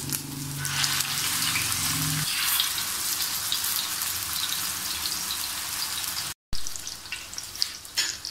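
Peshawari chapli kababs laid on a hot tawa give a steady, loud, close sizzle and spatter that runs nearly throughout, with a low hum in the first two seconds and a brief dropout near the end.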